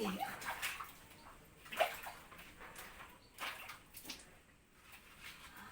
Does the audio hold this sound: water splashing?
yes